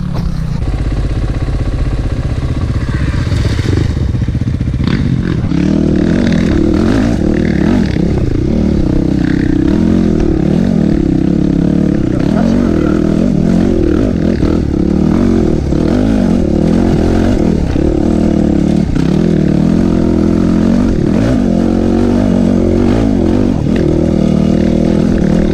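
KTM 450 EXC dirt bike ridden through bush, its engine revving and droning steadily and loudly throughout, with scraping and clattering from brush and terrain underneath.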